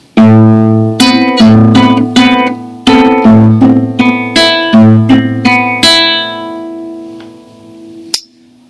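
Two bars of a tune played on guitar, with a low E bass and plucked notes: a loud, close run of clear ringing notes and chords at a moderate pace, ending in a sustained chord cut off by a brief tap.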